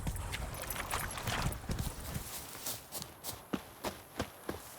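Horse hooves clip-clop in The Witcher 3 video game, a run of irregular hoof strikes that slow into distinct, evenly spaced steps over soft background noise, with no talking.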